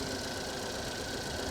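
A 2.4-liter Ecotec car engine runs rough and slightly jumpy, a steady close mechanical drone with a faint uneven knock throughout, no voices.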